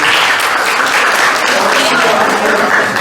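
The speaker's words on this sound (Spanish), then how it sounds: "Vamos a darle un fuerte aplauso." Loud, dense audience applause at a youth leadership workshop, sustained evenly for about three seconds with many hands clapping at once.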